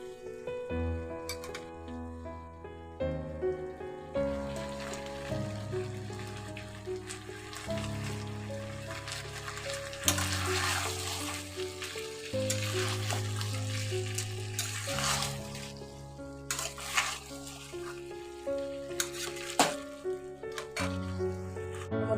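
Water is poured into a pan of frying mutton and potatoes for a Bengali aloo jhol, hissing and splashing steadily over prominent background music.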